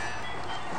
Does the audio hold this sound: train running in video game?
yes